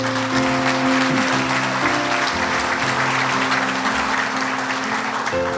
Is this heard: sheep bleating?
no